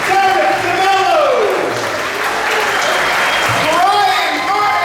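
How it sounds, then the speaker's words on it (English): A crowd applauds at the close of a Portuguese kids show in Tipton, steady clapping and cheering that stays loud throughout, with a voice speaking over it at the start and again near the end. "A round of applause for Hope Taylor up with us"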